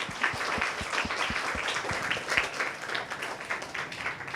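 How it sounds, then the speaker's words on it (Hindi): An audience applauds a performance with steady, dense clapping throughout, moderately loud and continuous. "और इसके लिए ज़ोरदार आप सबके लिए एक बार और तालियां बजाते हैं"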